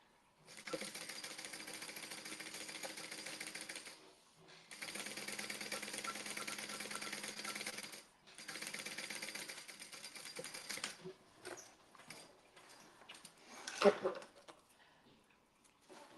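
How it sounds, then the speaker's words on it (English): A sewing machine runs a double top stitch on a fabric bag in three long steady bursts with short pauses, then a few shorter stops and starts and some clattering handling near the end; no talking is heard. "If you have time, do a double top stitch because it'll make you so happy."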